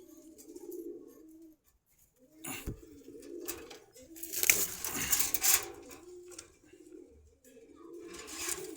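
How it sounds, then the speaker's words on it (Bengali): Pigeons coo in repeated low rolling phrases at a market in Meradia, Dhaka, with bursts of clattering and handling noise in between, fairly close. "ছটপটা কবুতরটা।"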